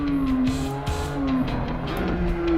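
Car tires squeal in a long oversteer slide in the Assetto Corsa VR racing game. A steady, high-pitched screech wavers and breaks off over a continuous engine drone, with brief gaps as the slide is caught and held again.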